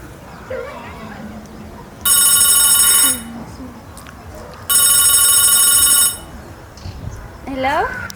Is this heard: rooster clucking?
no